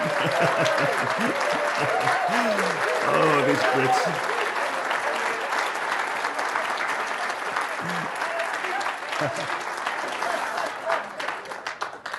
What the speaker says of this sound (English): And can we give him a thunderous standing ovation?